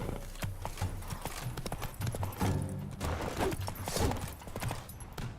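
Roach the horse trotting in The Witcher 3 game, steady clip-clop hoofbeats close and clear in a quick rhythm, with a brief whinny and some distant gunfire-like cracks mixed in.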